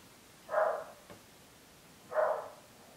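Two short, moderately loud dog barks about a second and a half apart, indoors with no talk.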